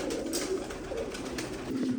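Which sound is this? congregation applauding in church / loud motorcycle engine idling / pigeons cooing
pigeons cooing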